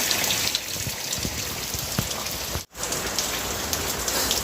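Heavy rain pours down in Bangalore as a dense, constant hiss with spattering drops on hard surfaces, loud and close throughout, broken only by a brief dropout near the middle.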